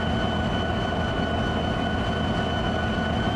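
A train in Farming Simulator 22 rumbles steadily with a constant, loud mechanical drone and a high whine held throughout, with no speech over it.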